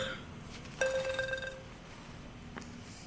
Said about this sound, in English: Sorry, there's a phone here.